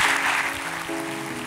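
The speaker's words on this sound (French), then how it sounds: "Applaudissons le Seigneur." Church congregation applauding during a French-language worship service, a broad wash of clapping that fades somewhat as sustained tones from an organ or keyboard come in beneath it.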